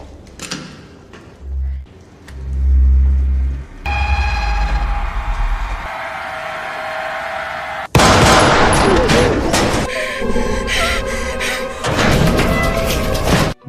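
Gunfire in an action film scene cracks out in sharp bursts amid loud clatter and impacts, with low rumbling passages and voices in between, building to a dense, noisy barrage toward the end.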